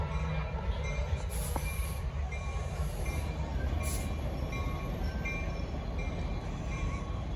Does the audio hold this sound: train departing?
yes